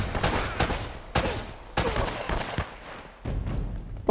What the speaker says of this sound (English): I think they might be shooting at her.